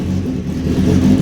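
A car nicknamed the Rapid Rattler runs with a steady, loud, low engine hum, started just before a cam belt replacement and valve timing check. The engine sounds close, with a slight rise toward the end and no voices.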